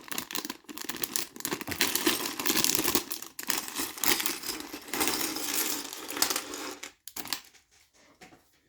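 Plastic bags of LEGO parts being opened, with close, loud crinkling and tearing in bursts, brief pauses between handlings and a quieter rustle at the end.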